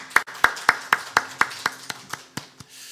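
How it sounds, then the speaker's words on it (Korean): A church congregation at a morning worship service gives a short round of rhythmic clapping in praise, about eleven evenly spaced claps that gradually soften, heard alone without talk. "하나님께 감사와 찬양의 박수 올려드리도록 하겠습니다"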